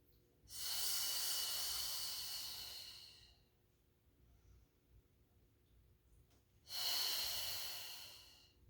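Two long, breathy exhales during a Pilates mat exercise, about three seconds and two seconds each, loud and close, with a quiet pause between them and no talking.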